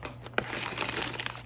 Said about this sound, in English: It does come with this plastic bag here